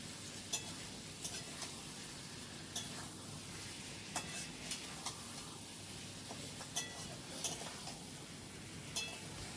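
Mutton with fried onions is stirred in a pan, a faint low sizzle under regular soft scraping knocks of the spoon, close by with no voices.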